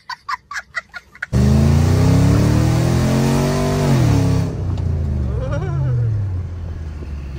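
A V8 BMW with a new exhaust starts with a few short throttle blips, then roars into a loud sustained rev and accelerates hard, the engine note rising and falling before settling into a steady drone with faint voices.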